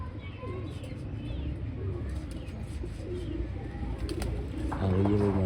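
Domestic pigeons on a rooftop cooing softly with occasional wing flutters, fairly close, someone talking over them throughout and a louder burst near the end.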